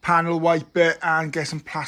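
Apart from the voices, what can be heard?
No everyday noise stands out behind the speech.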